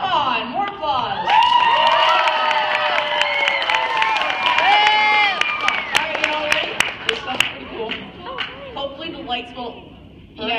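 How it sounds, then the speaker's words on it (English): Children and adults at a school talent show cheer, whoop and shout at a juggling finale, with scattered clapping that grows sharper toward the end. "Come on, more applause."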